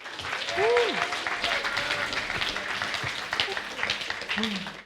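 Live audience at a music gig applauding and cheering: a burst of clapping and whoops, fairly close and sustained, with voices calling out over it.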